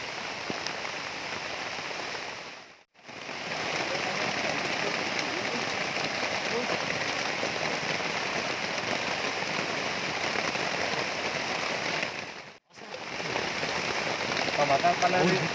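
Heavy rain pours steadily onto a forest campsite, a dense, loud hiss drumming on surfaces that stops briefly twice before resuming.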